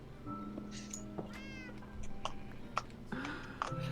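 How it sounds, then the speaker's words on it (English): A cat in the Minecraft video game meows repeatedly, several short cries spaced irregularly over a few seconds, fairly faint against quiet background game sound. "Your cat is so loud."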